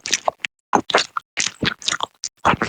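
A voice imitates loud open-mouth chewing of a hash brown: a quick run of wet, smacking, crunchy bites in short bursts with brief gaps, close and fairly loud.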